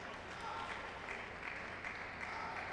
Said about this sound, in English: Applause for both men.